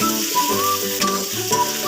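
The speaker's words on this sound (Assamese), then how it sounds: "মাংসখিনি কিছু সময় ভাজি থাকিম।" Pigeon meat fries in a pan for an Assamese dish, with a steady close sizzle and a faint whistling tone over it, and no talking.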